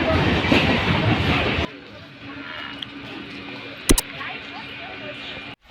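A passenger train from Howrah slowing into Goghat station in West Bengal, with loud rumbling rail noise that drops abruptly partway through to a quieter carriage hum, a brief sharp clank near the end, and people talking faintly.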